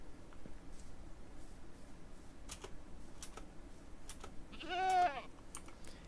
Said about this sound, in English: And there's the mountain goats.